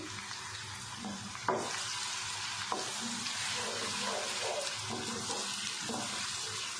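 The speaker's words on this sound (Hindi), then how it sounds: "हल्का सा इसको सौते कर लेते हैं और साथ ही इसमें 1 बड़ी प्याज है बारीक कटी, ये डाल देते हैं" Finely chopped large onion sautéing in a pan for a ridge gourd curry, a continuous bright sizzle close by, with a few soft knocks from stirring.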